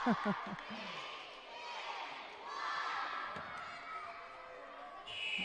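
Crowd cheering at a women's netball match, Republic of Ireland against Gibraltar at the Aberdeen Sports Village, with a steady, distant roar of spectators that swells and fades, heard under commentator talk and with a few shouts early on.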